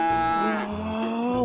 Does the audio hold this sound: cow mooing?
yes